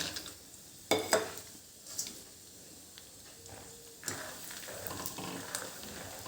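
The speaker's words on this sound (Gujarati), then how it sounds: "આપણે સિંગદાણા તળી લઈશું" Peanuts fry in oil for sabudana chevdo, giving a soft sizzle with a few sharp clinks and taps of a utensil near the start, then a steadier frying hiss.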